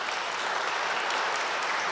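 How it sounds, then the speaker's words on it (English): Applause at a talk on money and Bitcoin, a dense, steady clapping from a crowd that fills the room evenly and loudly from start to finish, with no voices over it. "Huge round of applause for Parker Lewis"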